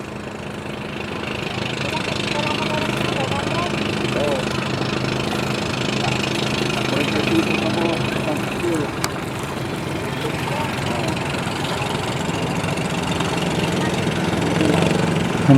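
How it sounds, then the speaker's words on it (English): A small unsilenced boat motor drones steadily throughout, a continuous mid-pitched engine hum with faint voices and outdoor noise mixed in. "He started his engine, the motor unsilenced"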